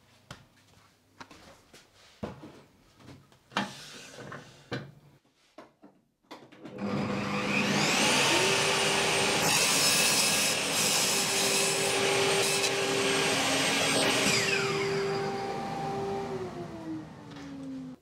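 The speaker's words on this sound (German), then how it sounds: "Davon säge ich jetzt zwei Bretter zu." A power saw cuts wooden boards for the lid and base of a homemade TV cabinet: scattered knocks and handling noises, then a loud, sustained whining cut with a steady tone that runs for about ten seconds before easing off.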